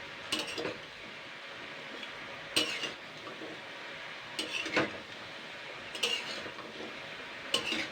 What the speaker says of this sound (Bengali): এবার আমি এটাকে জাস্ট পাঁচ সাত মিনিট একটু হালকা নাড়াচাড়া করে নেব